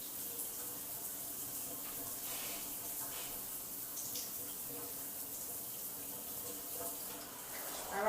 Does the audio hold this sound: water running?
yes